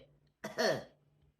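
A single short throat-clearing cough from a person, close and fairly loud, a brief voiced burst standing alone against a quiet room.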